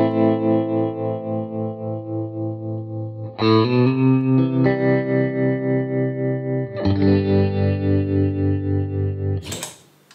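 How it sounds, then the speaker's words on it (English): Electric guitar through a tremolo preset on an Eventide pedal on a worship pedalboard: sustained chords pulse in a steady rhythmic throb, three strummed changes, loud and close with no talking, ending in a brief noisy burst. "I have a couple tremolos dialed in as presets."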